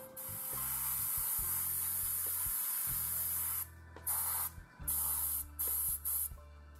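A coat of matte varnish is sprayed onto a 1/48 scale Eduard F-104J model kit. A loud, close hiss runs steadily, then breaks into several short bursts with gaps, over a low mechanical hum from the spray equipment.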